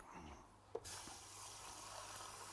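A kitchen sink tap starts abruptly after a small clunk and then runs in a steady, fairly quiet broadband rush; no talking.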